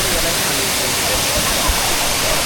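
A constant, loud roar of water at Maruti waterfall, Chondhe, Shahapur, heard up close as unbroken white rushing with a few low thumps beneath it.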